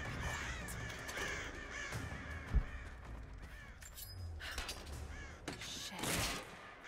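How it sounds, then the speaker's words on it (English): A flock of crows caws loudly and raucously in Rise of the Tomb Raider, with overlapping harsh calls and a sharp bang partway through. "That's a lot of birds."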